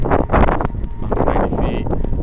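Strong wind buffets the microphone outdoors while a drone is flown, a loud, gusty rumble running throughout with faint rustling.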